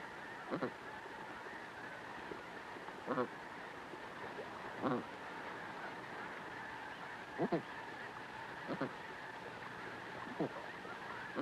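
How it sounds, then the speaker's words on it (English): Blue geese call on the Arctic tundra, repeated honks spaced every couple of seconds over a steady, faint background hum. "These are blue geese."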